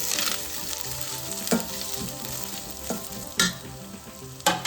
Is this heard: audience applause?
no